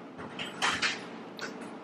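A door opens as someone arrives home, with a few soft clicks and brief rattling bumps close by, followed by a light latch-like knock near the end.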